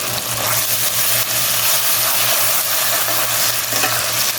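Ginger garlic paste frying with fried onions, a loud, continuous hissing sizzle heard close up, with a low steady hum running underneath.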